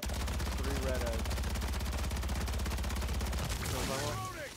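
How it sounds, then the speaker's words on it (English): Dense rapid automatic gunfire in Call of Duty on Rebirth Island, loud and continuous for several seconds while players shoot eggs, with a brief break and further bursts near the end under faint voices. "We shoot the three eggs on the outside"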